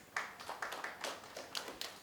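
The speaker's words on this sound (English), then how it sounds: "May we invite him with a round of applause" Scattered hand claps from a small audience at a digital radio talk, sparse and uneven, rising briefly then thinning out, fairly quiet and distant with no voices over them.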